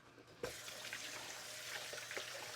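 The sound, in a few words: water running from a tap while washing hands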